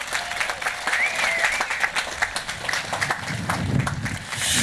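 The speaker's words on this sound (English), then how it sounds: "Let's give them a nice round of applause." Steady audience applause at a Memorial Day celebration at the Abraham Lincoln National cemetery, dense clapping throughout with a faint whistle and crowd murmur mixed in.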